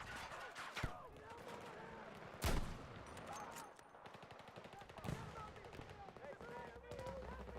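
Gunfire in the Halo video game: distant shooting rattles on in scattered bursts, with a few sharper nearby shots standing out, all under a voice talking.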